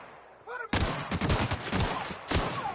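Rapid bursts of gunfire from The Outer Worlds video game, loud volleys of shots in quick succession after a brief electronic warble, dense and sustained to the end.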